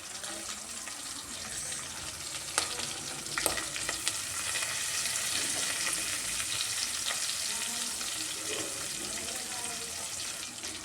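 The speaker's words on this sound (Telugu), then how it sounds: "అన్నీ ఇందులో వేసుకొని బాగా మంచిగా ఫ్రై కానివ్వాలి." Onions frying in a pan for a chicken egg noodle dish, a steady close sizzle throughout with occasional clinks and scrapes of stirring, no talking.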